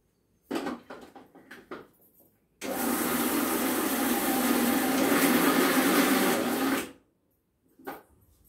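A large mixer grinder (mixie) grinding poha runs in one steady, loud whirring burst of about four seconds, bracketed by short clattering knocks from handling the jar before and after.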